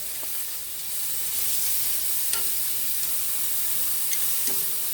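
Chicken pieces sear in a hot pan, a steady bright sizzle and hiss with a few faint clicks and taps, close and continuous with no talking.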